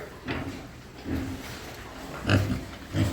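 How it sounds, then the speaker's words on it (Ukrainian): Piglets grunt in short, separate bursts, four or so scattered grunts nearby against quiet background rustling. "Ось такі поросятка."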